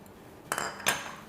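A metal spoon clinks twice against a bowl while ground spices are stirred into a marinade, two sharp, fairly close knocks over quiet background.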